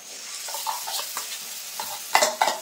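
Pointed gourd paste hits a hot pan and is stirred, giving soft scraping and sizzling in short bursts that swell louder near the end, close and without talk.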